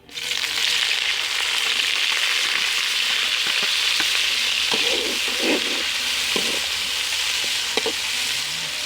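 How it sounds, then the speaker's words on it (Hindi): Onions frying in hot ghee, a dense continuous sizzle that rises abruptly at the start and holds steady, with a few light stirring scrapes and knocks, no voices. "घी हमारा गर्म हो गया, इसमें हम डाल देंगे प्याज"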